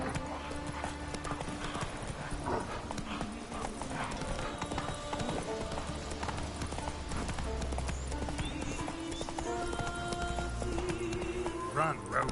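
Roach, a horse in The Witcher 3, gallops with rapid, steady hoofbeats throughout. Game music and voices play alongside.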